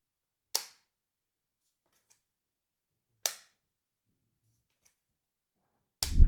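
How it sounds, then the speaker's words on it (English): Stylus of an IFLYTEK AINOTE tablet snapping magnetically onto its plastic side: three separate sharp clicks, each short and crisp with a quick decay, spaced a few seconds apart, the last one heavier and thumpier, in a quiet room. "it will always magnetically attach to the side of the tablet and makes a really nice, satisfying sound"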